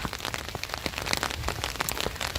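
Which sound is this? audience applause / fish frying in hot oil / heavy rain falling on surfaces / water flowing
heavy rain falling on surfaces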